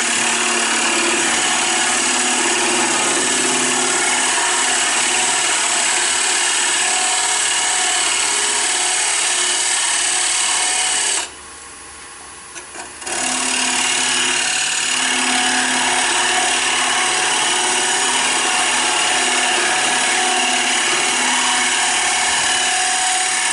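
A wood lathe spins a wig stand while a tenon is turned, giving a continuous loud whirring hum with scraping tool contact, briefly cutting out then resuming, close by with no voices.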